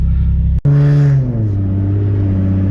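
A Nissan 370Z fitted with nitrous revs on the road, a loud close engine note climbing and then shifting down in pitch after a brief cut, with no talk over it.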